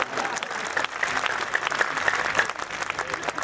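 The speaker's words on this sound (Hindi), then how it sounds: "तालियां बिना कहे नहीं बजाते आप" An audience at a Hindi poetry recital applauds in steady, dense clapping throughout, lively and fairly close, with a faint crowd murmur beneath it.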